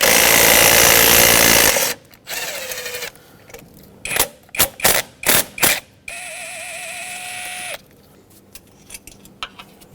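A power tool loosens 8mm bolts holding the fuel rail onto the intake manifold of a 2011-2016 Ford F-350 with a 6.2L V8, a long loud whir, then short whining bursts and ratcheting clicks with pauses between.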